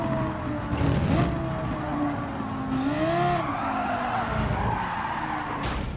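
Car tires skidding and squealing without grip in the racing game Gran Turismo 7, with repeated screeching slides over a steady engine roar.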